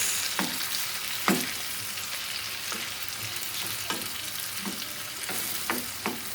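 Steady frying sizzle of tomatoes in a pan for menemen, with occasional sharp clinks of a utensil stirring, no voices.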